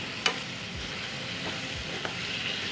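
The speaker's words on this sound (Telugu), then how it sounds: "ఇప్పుడు రొయ్యలు వేసానండి" Prawns dropped into hot oil for a Sunday prawn curry, giving a steady close-up frying hiss with a couple of sharp pops and stirring scrapes, no one talking.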